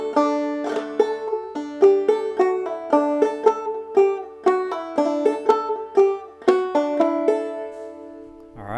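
Clawhammer banjo picks through the A part of Logan County Blues, a steady stream of bright plucked notes and brush strokes with ringing drones, played solo and close.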